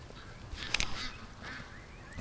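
Farm ducks, just returned from the creek, give a couple of faint honking quacks in a quiet outdoor setting, brief calls heard at a distance over low background noise.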